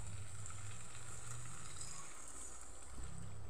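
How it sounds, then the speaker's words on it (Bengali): Water goes into a pan of potato and soybean curry, a steady, even hiss of sizzling and bubbling that fills the whole stretch, close and without talk. "এবার আমি দিয়ে দেব পরিমাণ মতো জল।"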